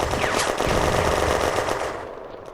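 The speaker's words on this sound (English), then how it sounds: "The section withdraws even further under machine gun fire." Sustained, loud, dense machine gun fire from a 1940 battle video game, set at a bridgehead at Remilly, rattling continuously with no pauses before easing slightly at the end; no voices.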